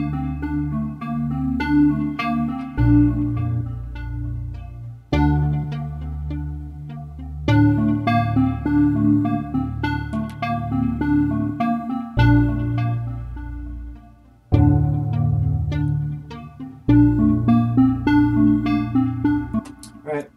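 An FM synthesizer plays a repeating phrase of plucky, bright tones over a deep bass line, its timbre shifting and evolving as knobs are turned, with no voices present.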